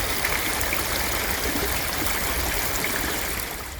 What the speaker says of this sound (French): c'est le bruit de l'eau.